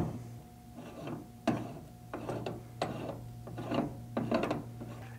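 A torque wrench ratchets while a 61 SALP fitting is tightened onto an overfill valve inlet inside a spill bucket, with repeated close clicking strokes over a steady low hum, no voices.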